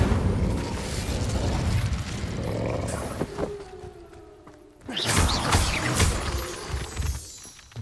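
The Incendio fire spell in Hogwarts Legacy is cast as a roaring burst of flame, loud and broadband, easing into a softer crackle and tonal hum before a second fiery whoosh flares up.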